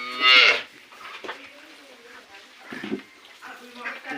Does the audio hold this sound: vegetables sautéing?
no